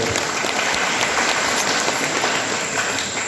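Audience at a religious festival gathering clapping together, a dense, even wash of applause sustained throughout with no voices over it.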